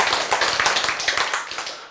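A church congregation claps briefly during a sermon, a quick burst of many hands clapping, fairly close and steady, fading toward the end with no talk over it.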